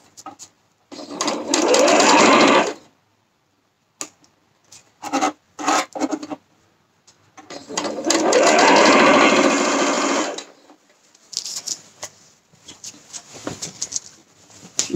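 Domestic sewing machine stitching a garment top, heard in two long, loud, steady runs of rapid needle clatter, separated by shorter stop-start bursts and pauses as fabric is repositioned and pins are removed.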